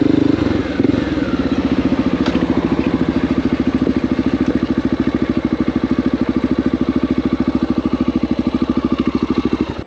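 A Honda XR650L dual-sport motorcycle engine idles steadily with a rapid, even thumping rhythm and some mechanical clatter, close and loud throughout.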